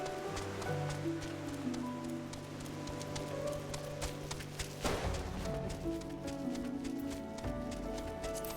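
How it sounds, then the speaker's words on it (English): Rain falls in the video game Final Fantasy XIV, a steady patter of drops layered over game music and ambient tones that continue throughout without a break. "Oh, it's raining again."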